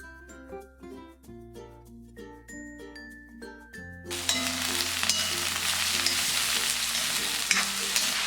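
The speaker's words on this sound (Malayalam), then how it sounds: "ഇനി ഇതിലേക്ക് ഈ എടുത്തു വെച്ചിരിക്കുന്ന ക്യാബേജും ക്യാരറ്റും കൂടി ഒരുമിച്ചിട്ട് ഒന്ന് വഴറ്റി കൊടുക്കാം." Cabbage and carrot hit hot oil with cumin in a pan and sauté. Clinking, chiming notes come first, then a loud, steady sizzle and frying hiss sets in and runs continuously to the end.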